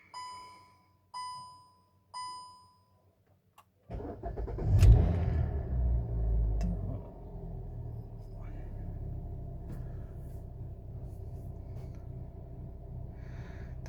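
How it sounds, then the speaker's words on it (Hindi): A Hyundai i20 VTVT Sportz, started after sitting for about a week: three chimes sound, then the engine cranks and catches with a loud rumble and rev before settling into a steady close idle. "आज मैं अपनी गाड़ी को ऑलमोस्ट 1 वीक के बाद स्टार्ट कर रहा हूँ।"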